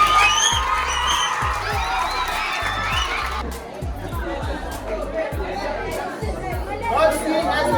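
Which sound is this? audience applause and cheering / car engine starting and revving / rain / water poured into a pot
audience applause and cheering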